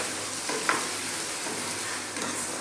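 Chopped tomatoes for a beef coconut curry frying in a hot pan, a steady close sizzle with a couple of soft stirring scrapes, no talk.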